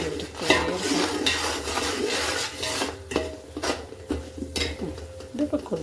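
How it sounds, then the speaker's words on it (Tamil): Homemade lemon pickle with vinegar is stirred in a metal pot, a spoon scraping and clanking against the sides in uneven strokes, close and fairly loud, with a bubbling simmer underneath. "இது கொஞ்சம் அந்த வினிகர் எல்லாம் சேர்ந்து நல்லா வர நல்லா கிண்டி விட்டுட்டே இருக்கணும்"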